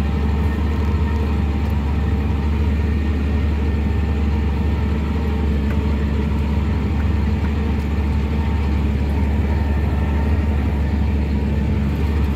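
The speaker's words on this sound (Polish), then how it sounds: "Sam ciągnik jedzie równiutko" A tractor ploughs a sloping field on New Year's Eve 2024. Its engine makes a loud, steady, close drone that never lets up, with a constant low rumble and no speech.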